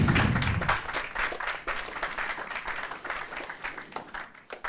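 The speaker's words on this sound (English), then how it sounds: "A round of applause" Audience applause at a university law quiz contest between University of Ghana and GIMPA law faculties, a steady burst of clapping from a room of spectators that holds for several seconds and thins slightly toward the end.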